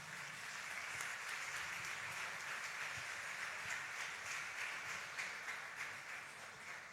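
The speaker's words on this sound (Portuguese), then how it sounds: "o pastor Mateus e o presbítero Marcos com uma salva de palmas bem forte." A church congregation at an evening service applauds in a long, steady roar of many hands, soft and somewhat distant, sustained without break and with no speech over it.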